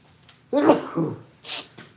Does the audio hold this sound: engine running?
no